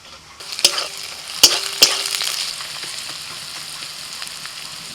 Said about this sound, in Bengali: পেঁয়াজ অর্ধেক ভাজা হয়ে গেছে, এখন আমি দিয়ে দিচ্ছি কিশমিশ।